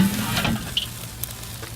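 A wagyu ribeye searing on a Weber grill gives a soft, steady sizzle with a few small pops and crackles, close and fairly quiet, with no voices.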